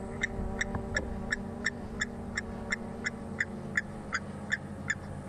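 A bird call played from a phone app rings out as a steady series of bright metallic clinks, about three per second like a hammer striking an anvil, over the low hum of an idling safari vehicle.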